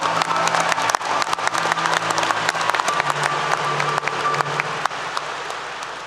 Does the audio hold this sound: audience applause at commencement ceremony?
yes